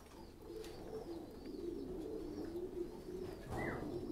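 American giant pigeons, a heavy breed where a pair weighs about 2 kg, coo steadily in a low, rolling drone that runs through the whole stretch, close by with no voices.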